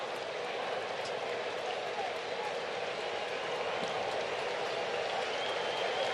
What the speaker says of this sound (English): the big crowd in Atlanta cheering him on